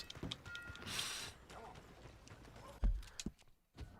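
Hooves clip-clop at a moderate distance with a brief snort in the video game Red Dead Redemption 2, while a voice talks over the busy, rustling background.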